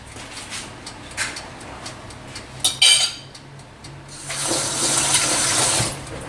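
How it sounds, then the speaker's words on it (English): Running tap water splashing in a kitchen sink as hands are washed, with clinks of dishes and cutlery before the water flow swells and runs steadily. "Washed my hand, of course,"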